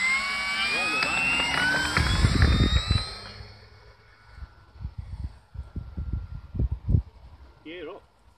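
P-51 aircraft engine on a takeoff roll, a loud rising whine and roar that fades away after a few seconds, followed by thumping wind noise and a brief voice.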